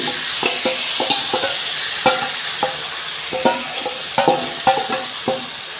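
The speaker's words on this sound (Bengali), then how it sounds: "এবার এর ভেতরে এই যে ম্যারিনেশন করা চিকেনটা আমি ছেড়ে দিচ্ছি" Marinated chicken frying and being stirred in a hot kadai, a steady close sizzle broken by repeated scraping and clattering stirs at an uneven rhythm.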